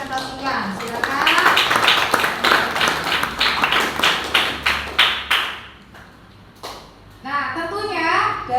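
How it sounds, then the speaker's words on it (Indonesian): Students in a classroom clapping for classmates who just presented, a burst of sharp, fairly close claps that fades out, followed by a few scattered claps and children's voices. "Kita beri tepuk tangan meriah dulu untuk kalian semua yang sudah mempresentasikan."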